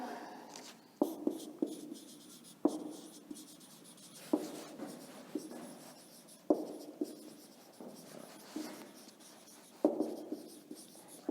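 A teacher writes notes by hand during a standard 9 social science lesson, giving repeated short scratchy strokes in uneven bursts, close and fairly quiet, with no talking.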